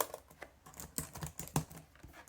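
Keys clatter on a Lenovo ThinkPad T430s laptop keyboard after a keyboard replacement, a quick irregular series of soft close taps, fairly quiet and with no voices.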